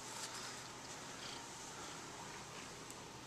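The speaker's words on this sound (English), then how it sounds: "this is a happy cat" A contented cat purrs softly and steadily up close, a faint continuous rumble with no voices over it.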